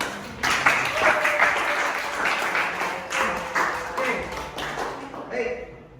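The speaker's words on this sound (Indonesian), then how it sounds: "Oke, tepuk tangan." Light classroom applause from students praising the best group, a patchy stretch of scattered claps with speech mixed in.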